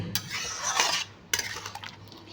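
Soybean curry stirred in a pan with a metal spoon, quick scraping and clinking strokes in two bursts separated by a brief lull, with a faint sizzle underneath.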